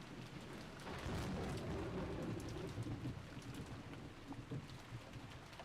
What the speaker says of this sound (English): In the crash of thunder, the room was lit up for just an instant.